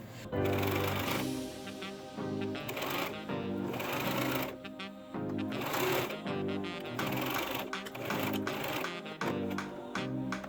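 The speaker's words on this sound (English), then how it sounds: "I sewed it down at the top along the open edge here, the bottom, and back along just inside" Sewing machine stitching a seam on a tiered skirt, running in close bursts with short pauses between them and a busy rattling mechanical rhythm throughout.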